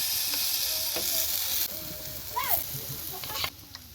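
Semolina batter hisses in a lightly oiled, brushed pan, a steady close sizzle with occasional scraping and clinks over it.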